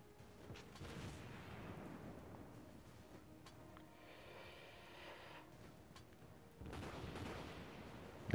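Scattered shots from a survival shooting video game: a few sharp reports and bursts over a low, faint background rumble, with a louder stretch near the end.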